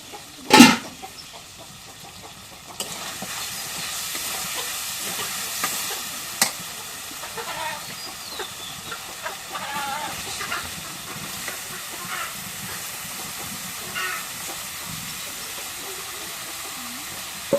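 Fish and bottle gourd braise in a pan, a soft ongoing sizzle with intermittent stirring scrapes and clinks, opening with one sharp knock, close and fairly quiet.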